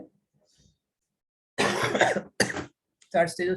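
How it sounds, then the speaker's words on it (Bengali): A person with a cold coughs in three harsh, close bursts, one long and two shorter, separated by near silence. "ইরিটেটিং লাগে আসলে কাশি সর্দি হলে"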